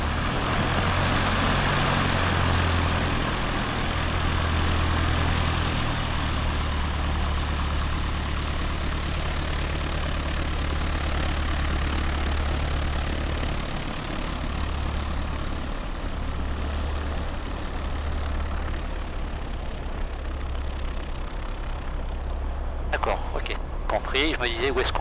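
Light aircraft propeller engine held at 2000 rpm during a run-up at Soissons airfield, a loud, steady droning roar filling the whole stretch, with a pilot talking over it.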